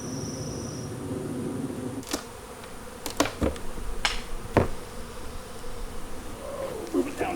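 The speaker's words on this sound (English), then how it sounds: "Oh, that's a lot of bees." Many bees buzz around opened beehives in a spring bee yard, a dense, close, continuous drone, interrupted by sharp clicks and knocks of equipment being handled.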